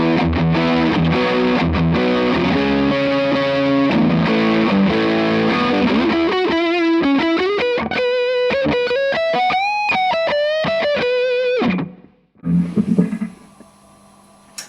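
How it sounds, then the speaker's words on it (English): Les Paul electric guitar on the neck humbucker pickup with heavy distortion, strumming sustained chords and then a bending single-note melodic phrase, loud and steady, stopping abruptly before a few brief scattered noises. "And we'll go on to the neck position."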